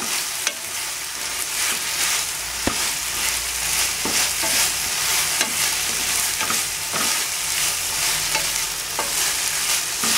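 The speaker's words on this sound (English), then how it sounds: "Now we should keep our flame high, then mix it up." Fried baby corn tossed in Manchurian sauce over a high flame gives a loud, continuous sizzle close by, broken by scraping clicks of a spoon stirring the pan, with no talking.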